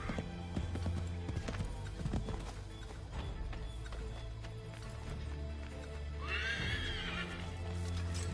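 A horse gallops with clip-clop hooves in the Assassin's Creed 3 video game, and a whinny rings out near the end over game music and ambience.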